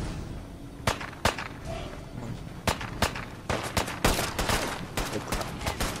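Fallout 4 gunfire crackles in sharp, irregular shots that quicken into rapid bursts toward the end, loud and close against a low background.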